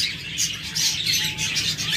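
Pet budgerigars chirp in a busy cluster, with rapid overlapping high tweets and warbles close by, continuous across a couple of seconds.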